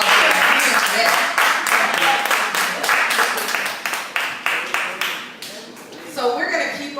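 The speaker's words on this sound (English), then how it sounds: "So you gotta give her a round of applause for that." Audience applause with a burst of clapping that fades in waves, then a brief lift near the end, steady and close throughout.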